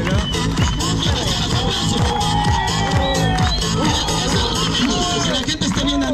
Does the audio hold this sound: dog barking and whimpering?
no